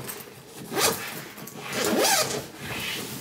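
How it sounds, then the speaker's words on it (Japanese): A zipper on an Ulanzi camera bag being pulled open in two quick close strokes and a shorter third, crisp and alone with no talk. "ファスナーを上げると、ズバン。"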